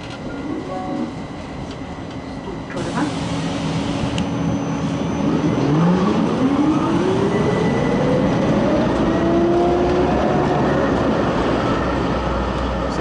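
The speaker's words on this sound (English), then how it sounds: "We're now getting the tram 18 back to Holbergsplass" Riding on board Oslo tram 18, the rumble of the car on the rails is loud and steady. A rising whine builds as the tram accelerates, and there is no talk.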